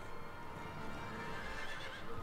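A horse neighs and whinnies in the Lego Lord of the Rings video game, with clip-clopping hooves and a steady bed of game sound filling the whole short stretch.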